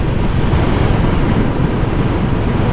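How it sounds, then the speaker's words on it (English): Sea waves wash onto the coast, heard from a moving motorcycle, a loud continuous roar of surf blended with heavy wind buffeting the microphone. "There you go, here's a bit of sea for you."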